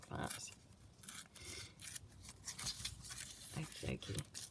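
Paper napkin torn by hand at a craft table during an alphabet art challenge: several short rasping rips and rustles in bursts, close and fairly quiet.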